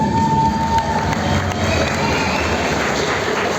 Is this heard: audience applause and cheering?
yes